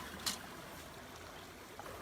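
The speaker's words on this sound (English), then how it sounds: "you can hear how that rush of water is now being diverted and down our side of the mountain" Water rushes down a diverted irrigation channel on a mountainside after the gates are moved, making a faint, steady wash with one brief splash near the start.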